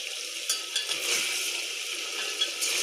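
Kashmiri chillies frying in a pan, a bright continuous sizzle with light crackles and faint stirring, close and steady.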